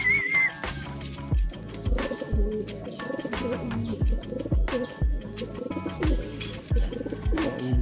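Racing pigeons coo near a loft during a race, with repeated soft, throaty coos and low thumps in an irregular rhythm, joined by a brief whistle near the start.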